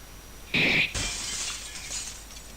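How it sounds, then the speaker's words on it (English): Blade shattering against a katana in The Sacred Blacksmith game: a sharp, bright metallic break with a glassy ring, then a scattering tail of fragments, alone and fairly loud. "The stationary sacred sword broke the attacking sword."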